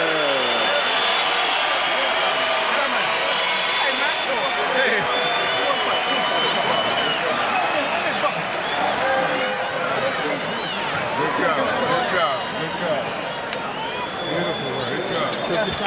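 Boxing arena crowd applauding and cheering after a knockout win in a Floyd Mayweather fight, steady dense clapping and crowd noise throughout, with a voice talking over it.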